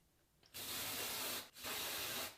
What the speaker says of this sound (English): I'm gonna spray the front with my dry shampoo